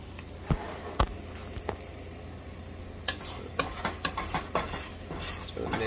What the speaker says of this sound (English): With a wooden spoon, which I have here, we're just gonna mix it.